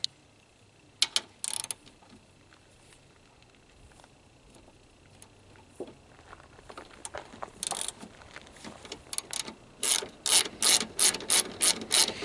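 Ratchet clicks from loosening the nut on the cruise control module bracket of a Chevrolet Cavalier/Sunfire 2.2 OHV, in short bursts that speed up into a steady rapid run of close, crisp clicks, with no talk.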